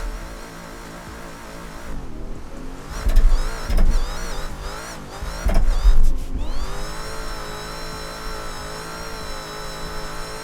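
A car with a Hellcat engine accelerates hard on a track, the engine rising in pitch through several loud revving surges and gear changes before settling into a steady high drone, with no talk.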